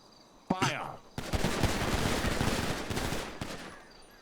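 A firing-squad volley in GTA NoPixel roleplay starts with one sharp shot, then a dense rattling fusillade of close gunfire that keeps going for several seconds before it stops. A few distant shots and voices come through underneath.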